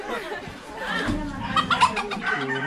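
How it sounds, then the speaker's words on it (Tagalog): Red fighting roosters cluck and squawk close by while being fed, producing short, busy bursts of bird calls that overlap with people talking nearby. "Papakain siya ng mga kanyang, ayan, manok na panabong."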